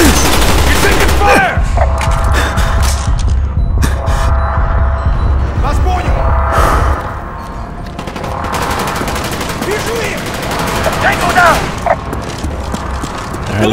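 Heavy automatic gunfire in Call of Duty: Black Ops, loud rapid bursts for the first half, then thinning to scattered shots and impacts, with voices calling out over the combat.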